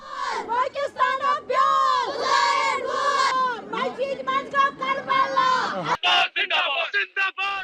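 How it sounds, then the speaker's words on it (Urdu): Protesters at a rally in Baramulla district, Kashmir, chant anti-Pakistan slogans in loud, rhythmic call-and-response bursts, many voices shouting together with short gaps between phrases. "بھارتی زیر انتظام کشمیر میں مظاہرین نے پاکستان مخالف نعرے بازی کی"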